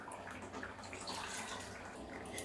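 Water poured into a pot of Tirunelveli-style sambar on the stove, a faint, continuous splashing trickle with a few soft drips, heard without talk.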